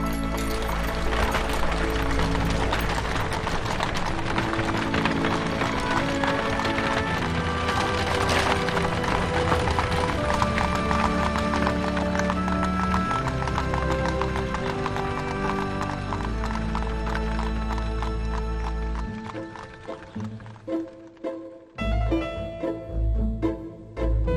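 Horse-drawn coach hooves clip-clop steadily beneath a dense wash of orchestral music, with wooden creaks, before the music thins out near the end.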